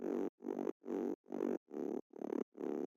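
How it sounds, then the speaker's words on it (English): A distorted Reese bass synth layer with its low end removed pulses in seven short, evenly spaced bursts, each a gritty, buzzy midrange chord separated by clean silences. "I also added this Reese bass layer,"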